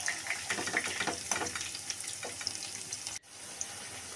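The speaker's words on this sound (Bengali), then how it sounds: "এবার আরও কিছু পিঠে পুলি ভেজে নিচ্ছে।" Sweet potato puli pitha frying in oil makes a close, continuous crackling sizzle that breaks off abruptly about three seconds in, then carries on more quietly.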